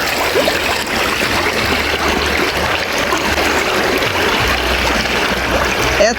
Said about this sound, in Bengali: সেই একটা ওপারে ঝর্ণা, ঝর্ণার পানি আসতেছে।